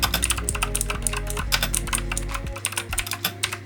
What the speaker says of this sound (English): If you know anything about the blue switch on a mechanical keyboard, you know that they are quite loud.